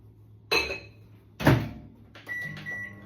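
A microwave oven heating soup is closed and started: a sharp door clack, a louder thump of handling, then button beeps and the start of a faint steady hum, all close by and without talk.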